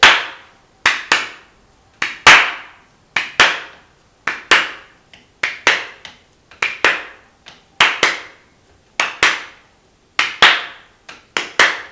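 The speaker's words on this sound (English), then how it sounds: "But the swing rhythm, actually, if we just clap it, sounds like this." Hands clap a swing rhythm, sharp close claps falling in an uneven long-short shuffle pattern, about two per second, steady and alone without talk.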